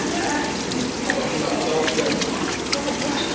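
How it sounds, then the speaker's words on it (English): Running tap water splashes steadily into a sink as hands are washed before food preparation, a continuous hissing flow with small spatters throughout. "we have to make sure our hands are washed and clean"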